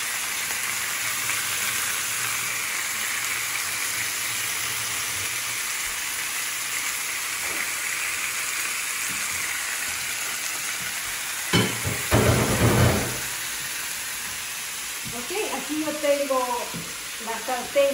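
Chicken searing in a frying pan gives a steady, bright sizzle throughout, with a clatter of utensils near the middle and some shuffling and handling sounds toward the end.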